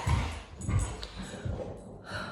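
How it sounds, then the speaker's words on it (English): Several puppies bark and whimper in short, scattered bursts, fairly close and moderately loud, with no voices over them. "My puppies have gone a little bit crazy right now."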